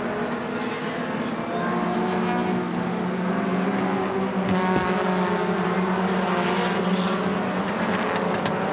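Race cars on a super short track roar continuously close by, engines droning steadily as a driver pushes his car hard in the closing laps.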